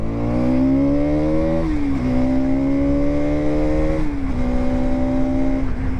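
A 2025 Bajaj Pulsar NS200 motorcycle engine revs hard and climbs in pitch twice through first and second gear, dipping briefly between gear shifts, loud and close with a steady droning roar.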